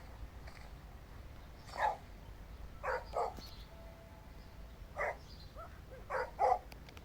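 A dog gives several faint, short barks spread unevenly over a few seconds, some coming in quick pairs, against a quiet background.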